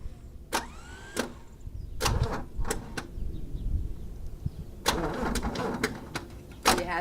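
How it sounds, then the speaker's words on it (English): A 60-year-old Willys jeep engine cranked by its starter motor in a garage: several short, sharp starter bursts separated by pauses, with an irregular rumbling turnover between them and no talk. "That's the starter turning."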